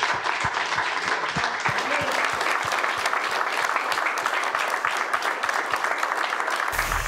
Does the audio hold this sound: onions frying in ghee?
no